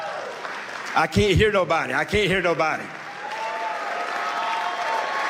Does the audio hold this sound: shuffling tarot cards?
no